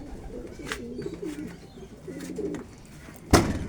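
Racing pigeons coo in a small backyard loft, a few soft rolling calls close by and spaced apart, with a sharper rustle or flutter near the end.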